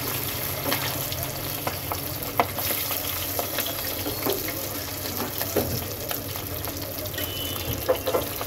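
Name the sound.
tengra fish frying in hot oil in a wok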